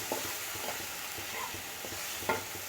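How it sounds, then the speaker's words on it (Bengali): Spice paste stir-fried in a pan, a soft steady sizzle under occasional light scraping and tapping of a spoon, close and fairly quiet, no voices. "হয়ে গেছে আমার মশলাটা কষানো"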